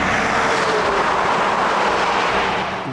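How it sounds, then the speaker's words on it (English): A road train roars past at high speed on a Western Australian highway, a loud, sustained broadband rumble and wind rush that stays close throughout and eases slightly at the end. "They sort of do sound like sort of death rumbling past you at 100 or 110 kilometres an hour."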